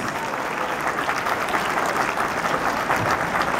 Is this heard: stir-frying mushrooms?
no